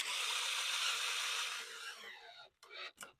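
A power drill drives 30mm screws into wood, a loud steady whirring for about two seconds that fades as the screw seats, followed by a couple of short bursts near the end.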